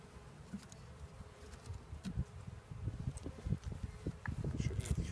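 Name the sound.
honeybees buzzing around a queen bank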